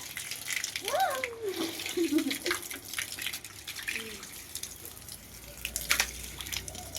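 Running water splashes onto legs in hot weather, a soft continuous splash and trickle heard close up while a person talks over it.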